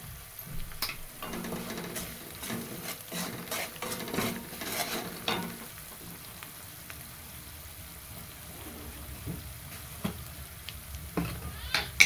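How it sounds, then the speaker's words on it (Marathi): Masala spices roast in a pan with a soft sizzle as a spoon scrapes and stirs in irregular strokes, moderately quiet and close, busier in the first half. "हे सगळं एकत्र मसाला भाजून घ्यायचा असं चांगलं"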